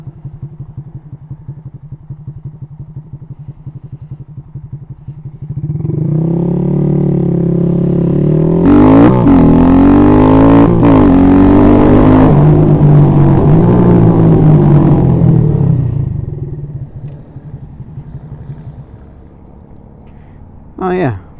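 Honda Grom small motorcycle pulling away from a green light: the engine climbs through rising revs and gear changes, loud and close, then settles back to a low idle, with a rider talking over it.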